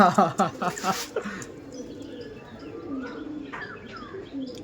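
Andhra flying pigeons coo in a quick burst up close, then softer cooing and chirps continue, with faint talk in the background.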